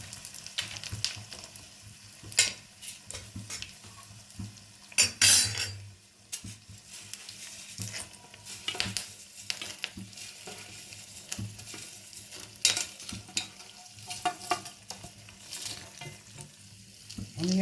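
Chillies and chana dal crackle and sizzle in hot oil for a curd rice tempering, with steady frying hiss broken by repeated clinks and scrapes of a spoon stirring the pan, close and moderately quiet.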